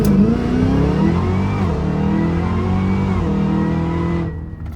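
A Cadillac Escalade-V, all-wheel drive, accelerates hard with its wheels briefly spinning, a loud continuous engine roar that climbs steadily in pitch, then drops off sharply near the end.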